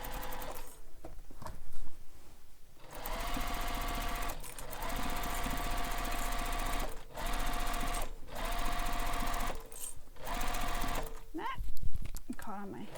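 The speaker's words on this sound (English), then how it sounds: "Now we're going to sew this with a full seam allowance from one end to the other." A sewing machine runs a full-length seam on a beach bag, steady close mechanical whirring in several bursts separated by brief pauses, with a voice talking over it.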